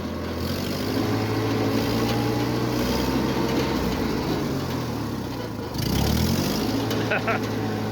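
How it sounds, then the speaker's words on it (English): The engine of a 1948 Ford 8N tractor runs steadily and loudly nearby, with a brief dip and pickup in revs during a throttle response check, while someone talks over it. "Let's check throttle response."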